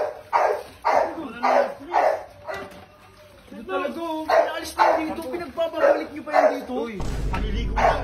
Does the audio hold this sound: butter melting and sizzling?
no